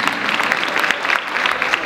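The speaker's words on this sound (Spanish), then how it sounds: "Fuerte el aplauso, por favor." Sustained applause from an audience at a charity evening at a school, steady dense clapping at fairly loud level for a couple of seconds, with no voices on top.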